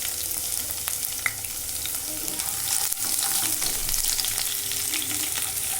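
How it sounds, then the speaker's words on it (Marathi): Crushed, chopped garlic fries in hot oil with asafoetida, a constant loud sizzle broken by the scrape of a spoon stirring the pan, heard up close with no talking. "आता यामध्ये मी चेचून थोडंसं चिरलेलं लसूण घालणार."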